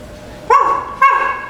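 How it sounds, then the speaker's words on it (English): A dog gives two sharp, loud barks about half a second apart, close by, with no talking around them. "Oh, this pest of a dog."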